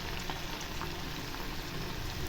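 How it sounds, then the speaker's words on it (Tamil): Steady, dense sizzling of batter frying in hot oil for an idli-batter-free tiffan dish, an even crackling hiss that fills the whole stretch without pauses, close and fairly loud with no talking. "எண்ணெய் நல்லா காஞ்சிருக்கு பாருங்கள் இப்போ ஒரு கரண்டி மாவு எடுத்து இப்போ ஊற்றிடலாம்"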